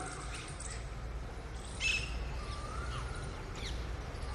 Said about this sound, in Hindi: पक्षियों की आवाज को सुने, चिड़ियों की चहचहाती आवाज को सुने